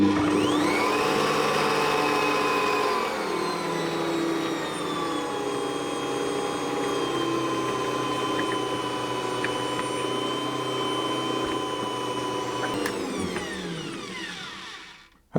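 An Ankarsrum stand mixer churns milk powder and butter together, a steady loud whirring motor hum with grinding texture running continuously for about thirteen seconds before winding down abruptly near the end.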